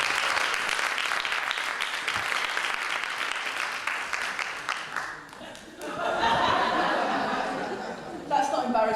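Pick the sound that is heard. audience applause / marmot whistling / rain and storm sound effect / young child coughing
audience applause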